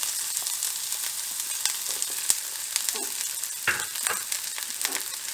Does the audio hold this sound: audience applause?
no